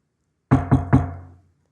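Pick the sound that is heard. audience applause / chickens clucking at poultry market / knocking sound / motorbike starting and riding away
knocking sound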